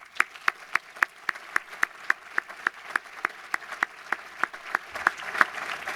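Applause from an audience at a speech, heard as a steady, evenly spaced run of sharp claps, close and fairly distinct, for about six seconds with no talking.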